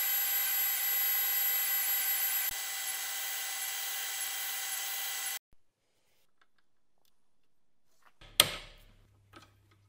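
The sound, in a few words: Dremel grinding a hex on a bevel cutter tool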